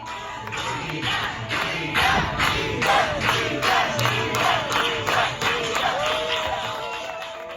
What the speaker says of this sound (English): This is a crowd in Tel Aviv today chanting his name.